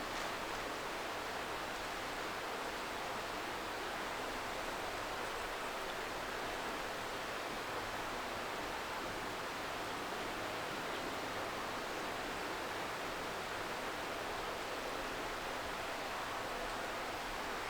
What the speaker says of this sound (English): It is pretty noisy down here, but it's distinctly like it's water.